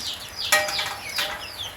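Caged chickens cluck in a few short, fairly faint bursts over a soft background hiss, with no other sounds breaking through.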